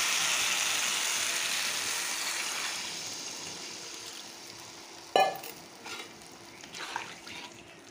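Sautéed spice paste in oil for a katla fish curry with taro stems hisses steadily in a pan, fading gradually, then water is poured in with a sudden sharp splash and bubbling sizzle.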